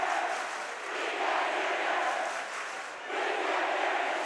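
Loud basketball crowd with rival cheering sections roaring and chanting at a high school game between St. Francis and Bellarmine, a dense sustained wall of voices that dips briefly before surging again.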